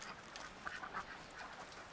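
Ancona ducks, an endangered domestic breed with random multicolored plumage, quack faintly a few times near the middle, quiet and somewhat distant over low background noise.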